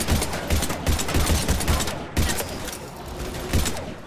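Rapid bursts of automatic gunfire from a Mass Effect 3 firefight, dense and loud, with clustered volleys repeating steadily across the whole stretch and no talk over them.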